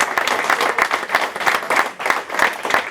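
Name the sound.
applause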